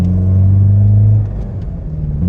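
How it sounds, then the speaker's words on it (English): Lamborghini Urus passing by outdoors, a deep engine rumble with a strong steady low drone that swells and then drops away as the SUV moves past. "there goes an Urus"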